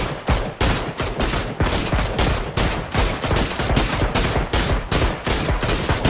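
Gunfire rings out in a PUBG match, a dense run of loud, rapid, evenly spaced automatic shots that continues throughout, close and prominent with no talking.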